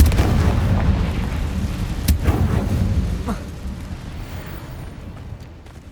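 A Confringo blasting spell erupts in the Hogwarts Legacy video game: a loud, rumbling explosion with a sharp crack partway through and a few smaller bursts, fading to a low roar at the end.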